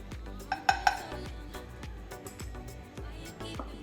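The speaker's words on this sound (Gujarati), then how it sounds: "હવે આપણે ગેસ ઉપર એક પેન લીધું છે અને એમાં 1 ચમચી જેટલું આપણે ઘી લેશું" A pan on a gas stove with a spoonful of ghee is handled, giving a few sharp metallic clinks near the start and then softer scattered taps and light scraping over a low background.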